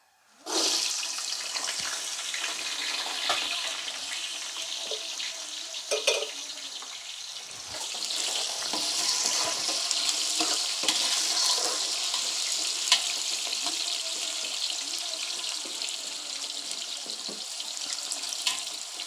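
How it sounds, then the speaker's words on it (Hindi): Chopped carrots hitting hot ghee in a pot while cooking Kabuli pulao, a steady loud sizzle and crackle that starts abruptly and continues with faint stirring sounds. "अभी इस स्टेज पे मैं इसमें कट की हुई अपनी गाजरें ऐड कर रहा हूँ।"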